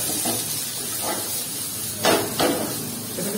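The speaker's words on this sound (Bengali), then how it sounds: "দেখতে পাচ্ছেন পেঁয়াজ, পেঁয়াজ, ক্যাপসিকাম, ক্যারট সব দিয়ে দিলাম। এটাকে এখন নাড়তে থাকবে" Onion, capsicum and carrot stir-fry in a pan for a Kolkata-style chicken chowmein, a steady close hiss broken by two louder scraping bursts of stirring near the end.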